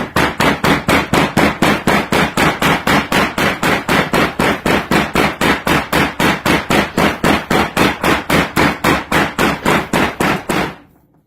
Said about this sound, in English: So I'm going to go ahead and just hammer down on this, and it's going to really flatten it all out.